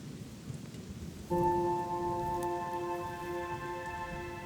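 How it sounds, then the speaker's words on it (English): Steady rain hisses throughout, joined partway by a sustained high electronic tone layered over the downpour. "And as if by clockwork, it's raining."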